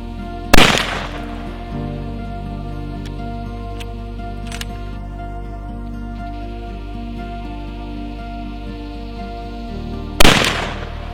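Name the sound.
rifle shots testing weapons before a buffalo hunt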